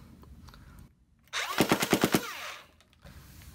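A Stryfe foam dart blaster with an Arduino select-fire mod firing on full auto, a quick rattling burst of about six rapid shots over roughly one second, close and loud, with a motor whine around it.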